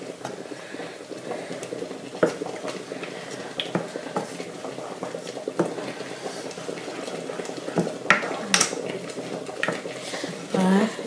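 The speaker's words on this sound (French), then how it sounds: "Je mélange avec de l'eau froide, pas de l'eau chaude." A spoon stirs an okra, onion and chili mixture with cold water in a pot for okra sauce, giving soft scraping and occasional metallic clinks under a person talking.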